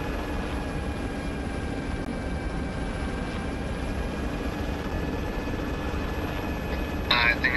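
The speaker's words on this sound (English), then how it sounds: "Team, rescue chopper is here." A rescue helicopter in a military roleplay game hovers in with a steady, close rotor drone that fills the whole stretch without a break, a brief rattle at the end.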